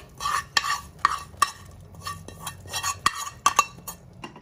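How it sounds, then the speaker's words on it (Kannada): Onion tempering poured into a pot of lentil and vegetable sambar, with steady stirring, light sizzling and sharp spoon-on-metal clinks repeating throughout at close range. "ನಾನೀಗ ಮಾಡಿಟ್ಕೊಂಡಿರೋಂಥ ಈರುಳ್ಳಿ ಒಗ್ಗರಣೆ ಹಾಕ್ತಾ ಇದ್ದೀನಿ"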